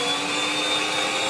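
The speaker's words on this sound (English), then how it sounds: "Still not fully incorporated, but we're going to be whisking more anyways, and James is messing about with it now" An electric mixer whisks brown sugar and butter for gingerbread with a steady, close, high-pitched motor whine that holds constant throughout and cuts off at the very end.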